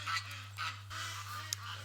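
Several geese honk in short bursts at moderate distance in a backyard over a low steady hum, with no talking.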